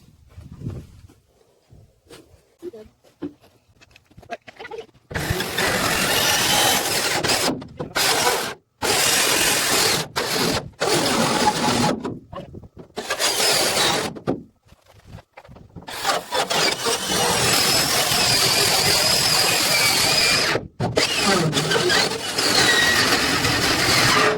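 A loud, harsh power saw grinds and rasps through a steel shipping container wall in long bursts, the blade binding, stopping and starting with brief pauses between cuts.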